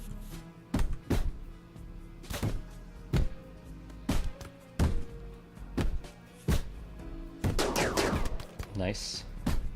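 A colonist shooting guns in RimWorld: sharp, loud single shots spaced roughly every half second to a second, with brief ringing tails and a denser cluster of shots near the end.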